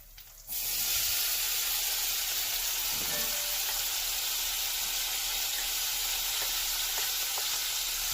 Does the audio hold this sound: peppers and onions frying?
yes